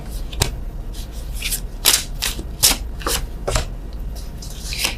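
Tarot cards being shuffled by hand: a run of crisp, riffling bursts at an uneven pace, close and clear over a low steady background hum.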